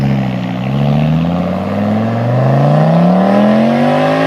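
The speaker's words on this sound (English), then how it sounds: "They had those sweet 5-cylinder engines which sound damn nice." An Audi Quattro's five-cylinder engine revs loudly up close, its tone climbing steadily as it accelerates, with a rich, layered growl.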